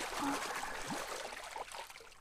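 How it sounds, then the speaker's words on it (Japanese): Water splashes and trickles in the video game Go Hell Go, a faint, soft patter of liquid movement lasting a couple of seconds with no voices. "するとパシャパシャと水音がした。"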